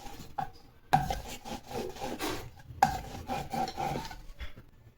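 A rolling pin presses maida dough into chapatis on a board, giving soft rubbing, scraping strokes in uneven bursts with two sharper knocks as the pin is set down, close and alone.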